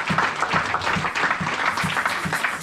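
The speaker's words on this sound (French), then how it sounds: "Est-ce qu'on peut acclamer pour le message?" A church congregation applauding after a sermon, a full steady roar of many hands clapping in a large room, loud and continuous with no break.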